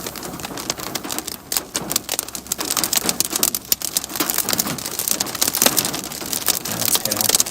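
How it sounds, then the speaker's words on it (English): Hail falls during a Kansas or Nebraska storm, a dense, continuous patter of small stones drumming on a nearby surface, with louder sharp clicks scattered through and no talk. "That's hail."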